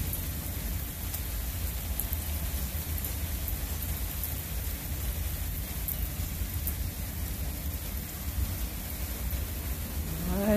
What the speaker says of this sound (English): Nice little Oklahoma rain.